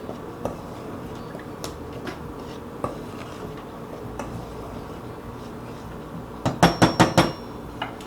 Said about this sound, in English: I'm just going to give this a quick stir to combine everything.